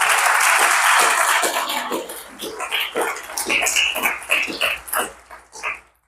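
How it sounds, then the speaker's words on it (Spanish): Loud applause from a church congregation fills the opening seconds, then fades into scattered, uneven clapping bursts before dying away. "Denle un aplauso al Señor."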